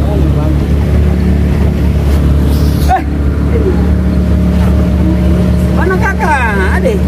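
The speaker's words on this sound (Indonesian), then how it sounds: "aku udah naik perahu" A motorboat engine drones loud and close during a boat ride around a village at Tobati, Jayapura, Papua, a steady low rumble with wind noise, while people talk over it.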